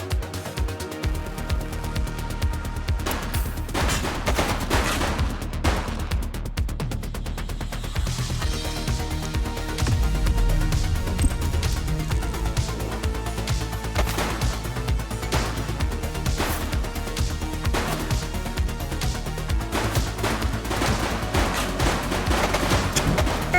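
Sustained gunfire in a police shooter set in Averno City, with rapid bursts and repeated sharp shots rattling on loudly and without pause over a steady backdrop of game sound.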